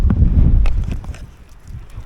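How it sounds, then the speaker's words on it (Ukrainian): Strong wind buffeting the microphone outdoors during a drought in the Odesa region, a loud low rumbling gust that swells early and then eases into fainter gusting. "І це дуже сильний вітер."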